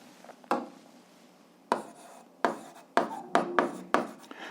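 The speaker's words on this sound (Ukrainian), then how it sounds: "Записуємо тоді закон." Pen or chalk strokes on a writing surface during a physics lesson, a series of sharp scratchy taps and short rubbing strokes coming in irregular bursts, close and clear with no talking.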